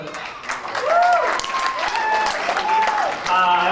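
A roomful of wedding guests claps in sustained applause during a best man speech, with voices and cheers mixed in throughout.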